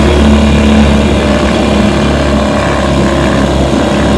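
A 1970 Evinrude 4 HP outboard motor runs in gear with a loud, steady, close-up engine drone that holds constant throughout.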